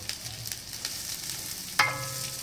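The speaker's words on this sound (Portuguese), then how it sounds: "Agora, pessoal, vamos colocar a cebola. Vamos misturar essa cebola" Steady frying sizzle from a pan of onions, with a sharper clatter near the end as the contents are stirred.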